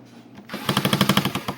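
Screwdriver backing screws out of a Bluetooth radio speaker, a quick run of about ten sharp rhythmic ratcheting clicks after a quiet start.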